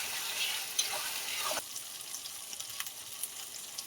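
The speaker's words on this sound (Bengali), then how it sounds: "দিয়ে আদা রসুনটা ভালো করে কষিয়ে নেব।" Ginger and garlic paste frying with chicken in a pan for a home-style chicken with puishak (Malabar spinach), giving a steady close sizzle that eases slightly partway through, with a few small pops and clicks.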